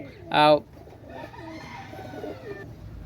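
Pigeons, running or flying birds kept for sale, give a brief loud burst of calling near the start, followed by softer continuous cooing and low background murmur.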